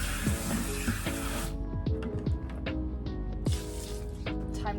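Water from a small garden hose sprays onto an RX7 during a wash, hissing in bursts with splashing and dripping between them, close and moderately loud.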